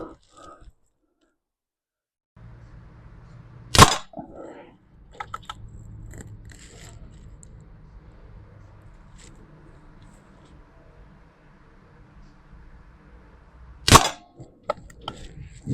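Two sharp, loud cracks about ten seconds apart as 10.5 grain Pro Hunter high impact slugs are fired from an air gun, with faint handling clicks and low rumble in between.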